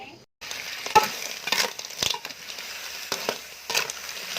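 Horse-hoof shellfish tossed in a hot pan with red curry paste, intermittent scraping stir strokes and light sizzle in an outdoor kitchen, fairly close, with brief louder clatters between quieter stretches.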